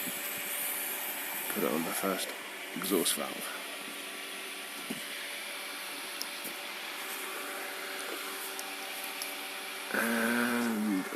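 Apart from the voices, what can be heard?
vacuum pump running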